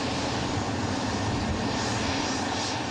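A landing airplane's engines give a steady, loud broadband roar that fills the whole stretch evenly, with no talk over it.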